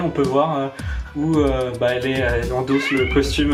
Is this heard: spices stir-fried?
no